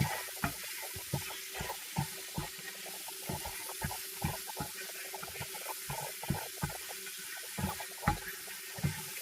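Tomatoes fry in oil for a black urad dal chutney, a faint, low sizzle punctuated by repeated close clicks and taps of a spoon stirring in the pan, with no one talking.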